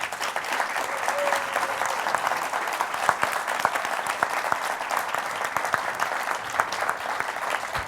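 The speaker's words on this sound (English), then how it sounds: "Can we give them another round of applause?" A forum audience applauds its panelists at a criminal justice event, with dense, sustained clapping that stays loud and even throughout, a full room heard up close.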